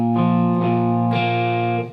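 Electric guitar through an effects rig, distorted with chorus, picking the verse pattern of a song; sustained ringing chord tones with two clear new attacks, close and loud, with no talk.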